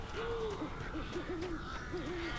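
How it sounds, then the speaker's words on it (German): Owl-like hoots sound in the Alan Wake video game, a series of clear wavering calls repeated several times over a quiet game ambience, with no talk. "Da sind ja Millionen von Vögeln."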